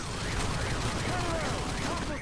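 Gunfire in Call of Duty Modern Warfare 2 crackles in a dense, continuous burst of shots across the whole moment, with a voice faintly underneath.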